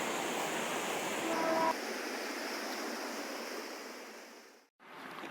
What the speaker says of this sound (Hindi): पानी की कलकल आवाज़ है